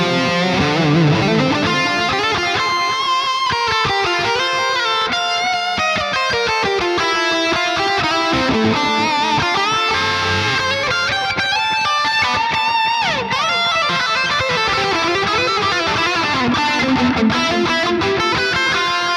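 A distorted electric guitar plays through an amp modelling plugin with its delay effect set very high, echoes stacking into a dense, continuous wash of sustained notes and bends that stays loud throughout with no talking.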